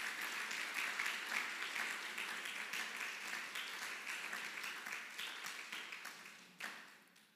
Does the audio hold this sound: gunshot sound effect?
no